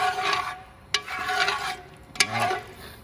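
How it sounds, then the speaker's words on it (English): A spoon scrapes across the bottom of a Cajun duck and andouille gumbo pot in repeated rasping strokes, with two sharp clinks against the metal, close and steady with no voices. "Scratch this pot."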